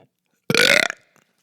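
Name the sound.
burp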